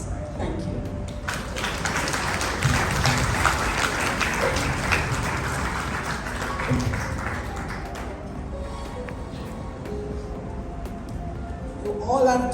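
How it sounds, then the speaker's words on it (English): Mourners at a memorial service for a police officer clap in a broad burst of applause that swells in the first seconds and fades after about eight. A voice speaks over and after it. "Another round of applause for you."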